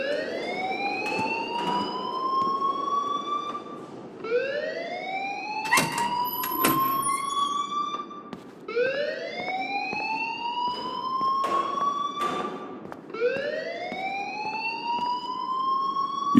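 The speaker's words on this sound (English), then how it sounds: "please turn off that alarm since that's your job" Alarm in the video game Life is Strange, a loud repeating siren-like tone that sweeps upward in rising whoops about every two to three seconds, with sharp clanks and bangs mixed in.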